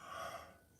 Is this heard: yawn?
yes